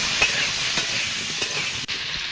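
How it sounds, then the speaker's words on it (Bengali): Potatoes seasoned with salt and turmeric fry in oil in a pan, a steady close sizzle with faint scrapes from stirring and no voices over it. "আমি একটু নাড়াচাড়া করে একটু ভেজে নেব।"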